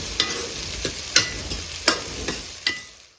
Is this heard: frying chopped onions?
yes